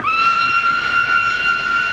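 A passing express train sounds a loud, steady whistle that holds a sustained high tone with a strong harmonic for the full two seconds, with faint rolling rail rumble underneath and no voices.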